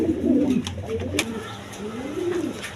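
Pigeons coo nearby in soft, rolling, low-pitched calls, one after another, with a few faint clicks and rustles in the background.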